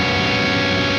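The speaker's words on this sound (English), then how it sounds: "this riff seems like complete chromatic insanity" Heavily distorted electric guitar plays a dense chromatic riff, loud, sustained and unbroken for about a second, played alone without any talking.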